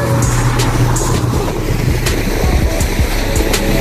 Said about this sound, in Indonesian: Kita menghitung mobil yang lewat teman-teman ya.